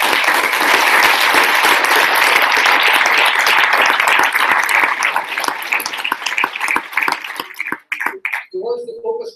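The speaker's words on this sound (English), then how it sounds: "we should give Joey another round of applause" Crowd applause at an election campaign launch, loud sustained clapping that thins into scattered claps and then fades near the end, with voices emerging as it dies down.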